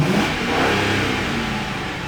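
A car fitted with an OBD2 tuning chip accelerates hard on the highway, its engine a loud, sustained revving roar heard from inside, steady throughout with no talking.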